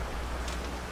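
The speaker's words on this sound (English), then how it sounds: "Plus, it's raining." Rain falling in the Sleeping Dogs video game, a steady broadband hiss of drops spread evenly across the moment with no clear individual hits.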